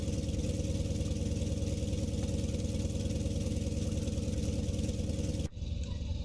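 Antonov An-2 radial aircraft engine in Microsoft Flight Simulator 2020 drones steadily at a loud, even throb, then cuts abruptly near the end into a lower, quieter rumble.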